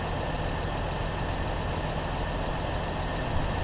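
A farm tractor idles steadily in a wet field while feeding TMR to grazing Holstein heifers, giving a loud, continuous, even engine drone close by with no talking.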